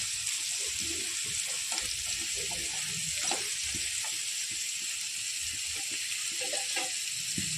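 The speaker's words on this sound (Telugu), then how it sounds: "బెండకాయ వేపు చేస్తున్నాను. బెండకాయ కొబ్బరి వేపుడు అండి." Okra fries with grated coconut in a pan, a loud, constant sizzle with soft scraping stirs scattered through it, close and uninterrupted.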